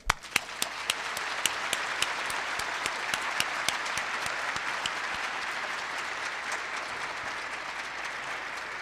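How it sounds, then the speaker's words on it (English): An audience at a 2012 ceremony applauds Genesis Works staff, dense steady clapping from a sizeable crowd that starts with a few sharp claps, swells and holds evenly throughout. "I'd like you, the audience, to please give a round of applause to the well-deserving staff of Genesis Works"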